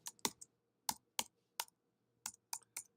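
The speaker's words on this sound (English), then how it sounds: "I'm going to type in the word courses." Keystrokes on a computer keyboard while entering a word into an Excel spreadsheet, heard as sparse, close, crisp clicks in small clusters with pauses between them, against a quiet background.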